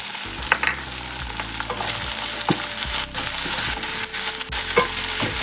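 Tomato sautéing with onions in a pan for Pallipalayam mutton varuval, a steady close sizzle broken by repeated scrapes and knocks of a spoon stirring against the pan.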